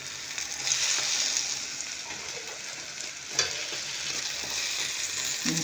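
Egg-dipped bread with cheese and green onion frying in a pan, a steady close sizzle with crackling pops throughout and a few sharper spits near the end, no talk.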